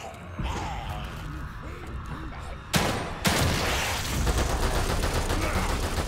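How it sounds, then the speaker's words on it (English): Sustained video-game gunfire during a firefight in The Evil Within 2, dense crackling shots running throughout with two sharp, louder bursts near the middle, set against a busy action backdrop. "Keep shooting until they're dead or we run out of ammo."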